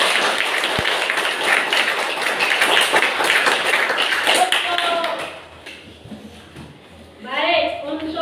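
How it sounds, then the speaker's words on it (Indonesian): Classroom of students clapping for a group after its presentation, a burst of quick brisk hand claps for about five seconds that then stops, followed by a teacher's voice speaking near. "Mari kita berikan tepuk tangan dulu."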